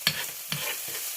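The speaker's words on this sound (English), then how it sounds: "it's always good to caramelize your onions and your garlic before you start adding your other garnishes together" Onions and garlic caramelizing in a pan, giving a steady close sizzle with a few louder stirring scrapes at a slow, irregular pace.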